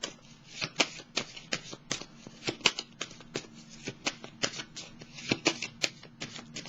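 Tarot cards handled and laid down during a reading, giving a steady run of crisp, quiet card flicks and taps close by, with a faint hum beneath.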